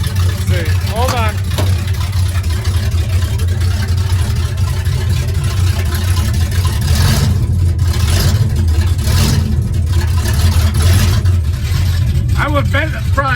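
An engine idles roughly after a cold start, nearly stalling from a carburetor problem, with a loud uneven low rumble that surges and sags under people talking nearby.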